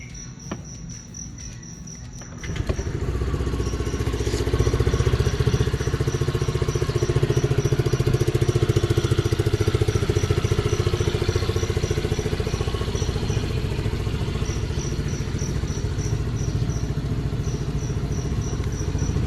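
A Rusi Sparkle 150FI fuel-injected motorcycle engine starts after a couple of seconds and settles into a steady, loud idle, with insect chirping continuing throughout and no talking.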